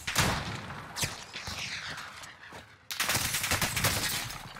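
Rifle shots from a Kar98 bolt-action rifle in a shooter video game, several loud sharp cracks in quick succession with booming tails, one more heavy blast after a short pause, close and without talk.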